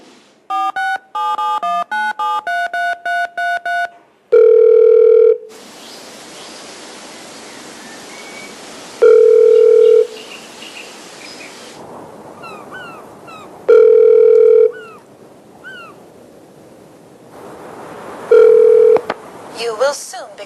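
A call to the Swedish Number: a run of DTMF dialing tones, then a repeated telephone ringback tone sounding four times in regular bursts, with quieter line noise and faint voices between the rings.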